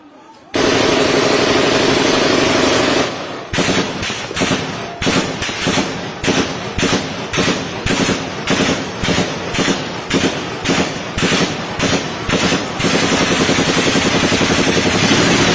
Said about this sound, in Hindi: उसके अंदर आपको बाकायदा गोली चलने की आवाज़ सुनाई देगी